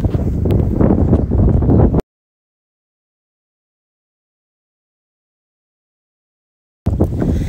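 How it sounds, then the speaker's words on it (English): Wind buffets the microphone outdoors at an abandoned Scottish castle, a loud rumbling roar that cuts out completely for several seconds and then returns. "Sorry about the wind, as I say, guys."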